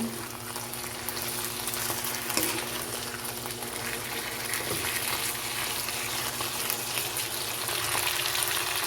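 Chicken and mushroom stir-frying in a pan, a steady, even sizzle with faint scraping stirs, continuous and moderately quiet, no voices.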